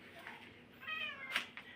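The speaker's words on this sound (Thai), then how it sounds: "ขอโทษนะ เสียงแมวมันเข้ากล้องนะครับ" A cat meows once nearby, a drawn-out wavering cry in a quiet indoor room, with faint soft sounds around it and no clear speech.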